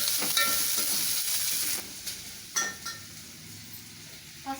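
Softened onions cooking in a covered pan for egg soup are stirred, giving a close frying hiss that fades into quieter sizzling, with a few sharp scrapes and clinks of a spoon against the pan.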